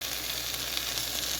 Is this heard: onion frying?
yes